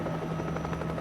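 A news helicopter hovers over plane crash wreckage at sea off Miami Beach, its rotor giving a steady, loud, continuous drone with a low pulsing thrum and no voices.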